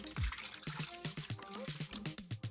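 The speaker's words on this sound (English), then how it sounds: "Now, it's time to fill the bottles. We're going to need a cookie sheet and some funnels." Oil and water trickle through funnels into bottles set on a cookie sheet, giving close, gurgling, bubbly pouring with uneven glugs and drips.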